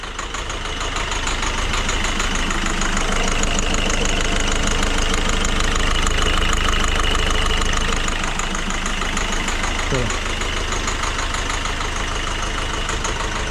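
A Citroën C4 engine idles steadily with a tensioner pulley noise, a continuous mid-pitched running drone with a faint rhythmic knock throughout, close and fairly loud, briefly shifting near the end, with no talking.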